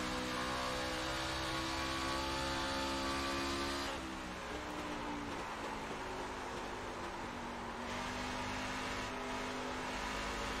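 An iRacing race car engine drones loud and close on an oval track, a steady high whine that shifts pitch as the car accelerates, with no talking.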